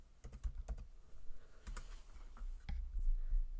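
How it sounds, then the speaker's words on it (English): Rapid bursts of typing on a computer keyboard, keys clicking in quick clusters with short pauses between, close and fairly quiet, no voices. "So I'll type that in here"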